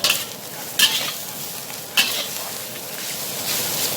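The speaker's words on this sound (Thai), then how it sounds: "ผัดด้วยไฟอ่อนๆตรงนี้ผัดแรกๆไงเราจะไล่น้ำมา ไล่ น้ำมัน" Fish maw is stir-fried in oil over low heat, giving a steady sizzle with a few sharp scrapes or clacks of the utensil against the pan, close and fairly loud, with no talking.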